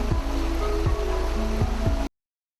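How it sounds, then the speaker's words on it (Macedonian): The Plakenska river runs beside Rečica village with a steady, loud rush of water and a few soft knocks underneath. The flow carries on without any voices and stops abruptly after about two seconds. "а овде покрај мене што течите Плакенската река"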